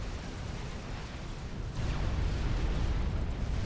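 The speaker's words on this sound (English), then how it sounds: "Another volley of shells land." Artillery shells explode in a Supreme Commander battle, a rumbling burst of booms that swells louder partway through and holds as a dense low roar.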